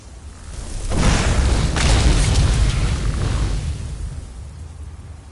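Fire spell explosions in the Skyrim video game erupt as a deep, roaring boom that swells and rumbles for several seconds, loud and close, then slowly fades.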